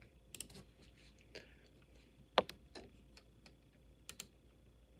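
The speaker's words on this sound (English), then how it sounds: "how about I type in vehicle theft Toronto" A computer keyboard is tapped out in short, sparse clicks, faint and close, with one sharper louder keystroke midway and small clusters of taps near the start and end.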